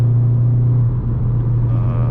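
A Seat Leon Cupra 300hp drives through corners on winding backroads, its engine a steady, loud, close drone with an even low hum and no voices.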